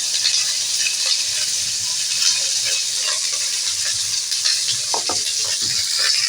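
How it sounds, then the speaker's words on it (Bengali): Malabar spinach stems with potato being stirred as they fry in a pan, a steady close sizzle with scattered scraping and clinks of the spoon throughout. "ডাঁটা দিয়ে আর কিছুক্ষণ আমি নাড়তে থাকবো"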